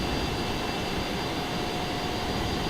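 Su-35 jet engine roaring during a short-field takeoff in Microsoft Flight Simulator, a steady, loud, broadband whine and rumble with no voices.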